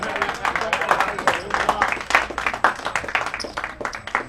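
An audience applauds at a poker final table in the WPT Jacksonville bestbet Open, steady scattered clapping that fills the room while a commentator talks over it.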